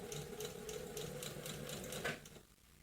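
A sewing machine stitches bias binding onto fabric with a steady, fast mechanical whirring and rhythmic needle clatter, fairly quiet and close, slowing and stopping near the end.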